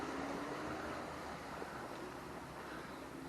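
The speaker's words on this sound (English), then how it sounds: "Bit of a waterfall there, going through the wall, flowing down into the lake" A small waterfall spills through a wall into a lake on a muddy countryside walk, giving a steady broadband rushing wash that stays even and close for the whole stretch without talk.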